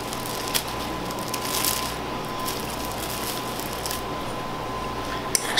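Soft, steady scraping and squishing of compound butter being spread onto plastic wrap, close and quiet, continuous for several seconds with a small tap near the end.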